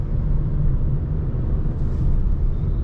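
Steady low engine rumble and road noise fill the cabin of a 2025 Honda Amaze facelift, a constant muffled drone with no voices, music or air conditioning.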